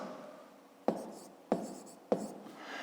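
A pen writes on paper during a math exercise, three quick sharp strokes at even intervals over a soft scratching bed, quiet and close.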